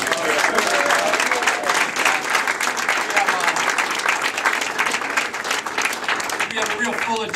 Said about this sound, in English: I'll give our mayor another round of applause